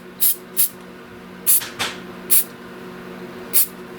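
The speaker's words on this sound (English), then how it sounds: "And give it a little bit of spray." An aerosol cleaner hisses in short bursts at a Canon T50 camera lens mount: five or six quick, sharp puffs spaced irregularly, close and fairly loud, over a quiet background.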